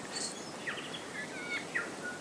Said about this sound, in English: All you can hear is the birds, and it's mighty.